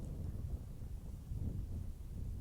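Wind blows outdoors beside a house as a steady low rumble, buffeting the microphone throughout with slight gusts and no talk.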